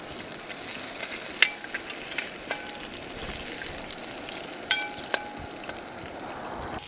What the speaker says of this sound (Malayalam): ചുവന്നുള്ളിയൊക്കെ നല്ലോണം മൂത്ത് വന്നിട്ടുണ്ട്.